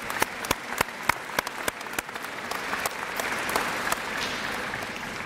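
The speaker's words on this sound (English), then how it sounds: "if we could give them a round of applause to thank them for their generosity" Audience at a university athletics awards ceremony applauds, starting with a few loud, sharp individual claps over a steady wash of clapping that grows into dense, sustained applause from a crowd in a large room.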